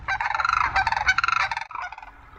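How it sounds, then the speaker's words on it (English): Cranes call noisily as they fly in to a bog, with a dense, loud run of rapid, rattling, overlapping bugling notes that trails off into a few fainter calls. "as they were returning, they were very noisy and were accompanied by an intruder crane"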